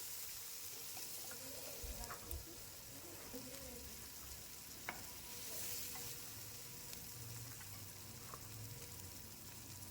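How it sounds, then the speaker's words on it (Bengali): Chopped onion and tomato fry gently in oil over low heat for a flattened-rice pulao, a soft, quiet sizzle with light stirring clicks and some faint background noise. "এরপর পেঁয়াজ কুচিটা দিয়ে দিচ্ছি আর দিয়ে দিচ্ছি টমেটো কুচিটা দিয়ে একটু ধিমে আছে ভেজে নিচ্ছি কিছুক্ষণ"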